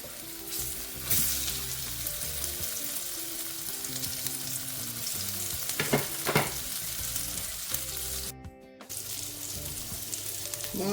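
Kingfish pieces fry in hot oil, a steady close sizzle with crackling and popping spatter running throughout.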